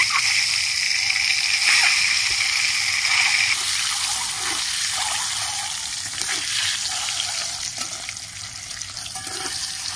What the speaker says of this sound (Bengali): ডিমগুলো করে ভেজে নেব।